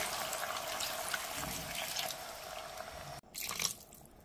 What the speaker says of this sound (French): Et après 2 minutes, je rajoute de l'eau.